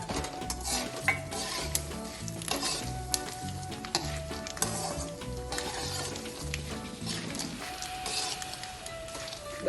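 Curry leaves, fennel seeds and puffed grains sauté in a pan for a Holi-season dhani papad chevdo, a dense continuous sizzle broken by scraping and tapping of a spoon against the metal, close and steady with no talk.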